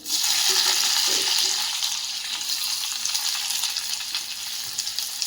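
Finely chopped onion goes into a pan of browning garlic and frying oil, giving a loud, bright sizzle that settles into a steady crackle with light stirring noises.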